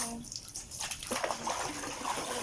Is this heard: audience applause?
no